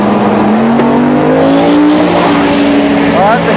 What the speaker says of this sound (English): See what Trevor runs before Aaron gets up there